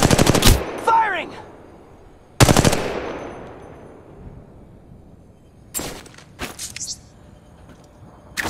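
Gunfire from Apex Legends Mobile, with two loud bursts of automatic fire near the start and a sharp burst around the three-second mark. Several shorter clusters of shots follow later, with game-effect sweeps in between.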